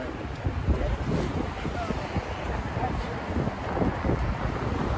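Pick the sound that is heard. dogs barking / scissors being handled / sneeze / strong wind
strong wind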